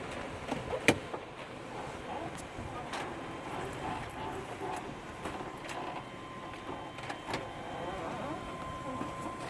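A vehicle fitted with tire chains rolls slowly forward outdoors, a low, continuous rumble with faint clinks and clicks throughout, heard up close at modest volume.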